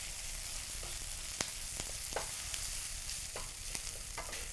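Garlic and onions fry in a pan over lowered heat, giving a steady soft sizzle with scattered sharp pops and crackles throughout, close and alone.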